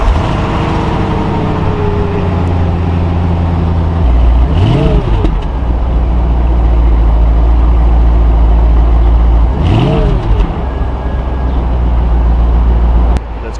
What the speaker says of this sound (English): let's give it a cold start, see how it sounds